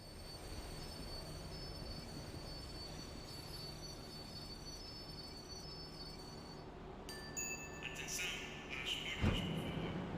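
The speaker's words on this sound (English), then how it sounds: "The tram was slowing down, and I'd only just gotten on board." A tram in the video game Max Payne 3 rolls and slows on its rails, a continuous rumble with thin high wheel squeal throughout, swelling into a louder metallic screech near the end.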